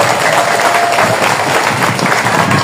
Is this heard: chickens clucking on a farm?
no